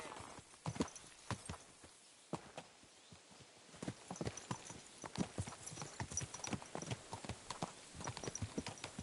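Horse hooves clip-clop in the medieval game Kingdom Come: Deliverance 2, a quick uneven series of close, crisp knocks on hard ground, growing busier toward the end.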